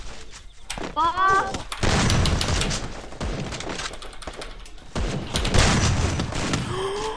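Rapid gunfire bursts and impacts in the Free Fire battle royale video game, loud and close, with voices shouting over the shooting.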